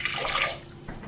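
Water poured into a soup pot at home, a short splashing pour lasting about a second, close and fairly quiet.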